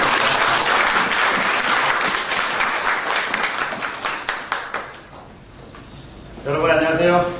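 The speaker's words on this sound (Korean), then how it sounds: "큰 박수로 맞습니다." An audience at a corporate lecture applauds as the speaker is welcomed, with dense clapping that thins into scattered claps and fades out. A voice begins speaking at the very end.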